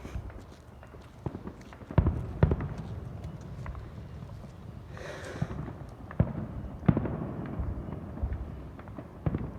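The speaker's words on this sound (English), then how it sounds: "Hey, there's the fireworks here." Colorful fireworks bursting at a Fourth of July celebration, a series of sharp, irregular pops and cracks, some loud and near and others fainter, over a steady outdoor background rumble.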